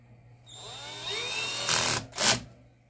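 A power screwdriver whirs steadily as it backs out screws from a device in need of lubrication, with a rising motor whine and then two short louder bursts close by.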